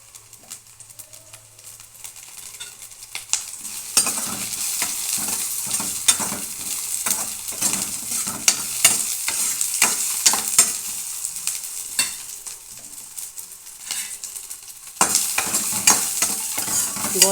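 Onions frying in a pan, a loud crackling sizzle that swells and fades as they are stirred, with frequent scraping and ticking of the spoon.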